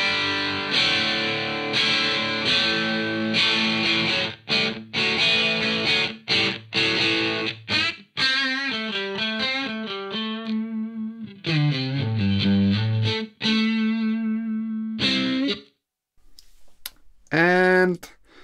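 Distorted electric guitar through a Two Notes Torpedo Captor X using its Dynamic 421 mic simulation, playing loud sustained chords and ringing notes with abrupt muted stops and short gaps, alone and upfront.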